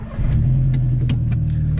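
A car engine idles and rises slightly as the car is pulled forward, a steady close rumble with no talk.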